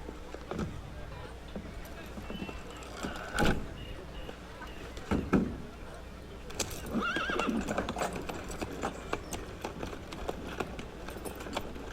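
Horses neigh and whinny over steady clip-clopping hooves in the video game Assassin's Creed Unity, with a few sharp thuds and a busy background throughout.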